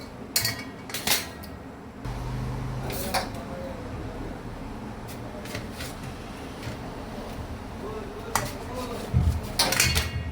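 A ripe mango being cut and peeled in a kitchen, with clinking of a knife and dishes in sharp bursts at the start and end, a steady low hum between them, and no voice.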